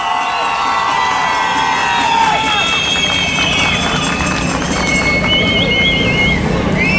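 A rally crowd roars and cheers loudly and continuously, with shouting voices and whistles rising over a dense wall of crowd noise.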